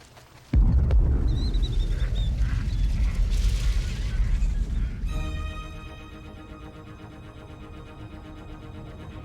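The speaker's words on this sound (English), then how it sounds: "Sonic booms just heard at the Kennedy Space Center" Sonic booms from a rocket landing at Kennedy Space Center arrive as a sudden loud, deep thump that rolls into a long, rumbling decay. The rumble then fades to a quieter hum with faint tonal noise.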